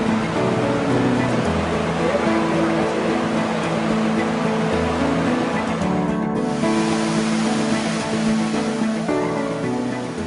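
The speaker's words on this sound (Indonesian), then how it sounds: "Gemericik suara air serta desau angin di sela-sela dedaunan" At Loksado, river water runs steadily along a stream lined with trees, with wind in the leaves, making a loud, continuous wash that stays unbroken throughout.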